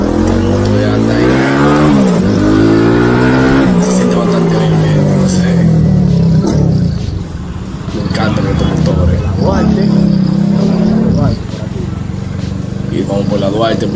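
A CG200 motorcycle with its 250cc engine bored out to 300cc revs loud and close, its pitch climbing and falling through repeated throttle blips over about fourteen seconds.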